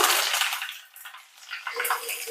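Mustard seeds splutter in hot sesame oil, a loud broadband crackling hiss that dips briefly in the middle before rising again.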